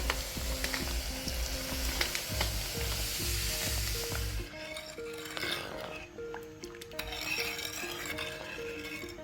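A kilo of sugar is stirred into a boiling pot of liquid for nannari sharbat syrup, giving a loud, continuous bubbling hiss with the scrape and clink of a spoon against the pan.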